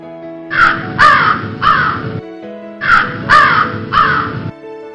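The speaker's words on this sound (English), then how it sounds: "Crow, crow." A crow caws loudly and close by in two sets of three harsh, rasping calls separated by a short pause, over a faint tonal background.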